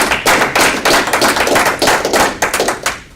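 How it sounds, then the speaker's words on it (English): Dense applause from a room of people at a Board of Governors meeting, steady clapping that rises and falls for a few seconds, moderately loud and close. "let's give these folks a round of applause."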